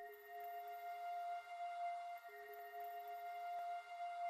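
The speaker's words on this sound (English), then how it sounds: "the last thing I added was this little like soundscape flute sound" Faint, airy soundscape flute tone in a beat, holding steady sustained notes with a soft breathy wash, quiet and alone.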